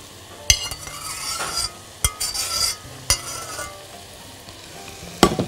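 Butter sizzles and spits in a hot pan while being stirred for a potato and meat casserole, a steady frying hiss broken by several sharp utensil scrapes and clinks against the pan.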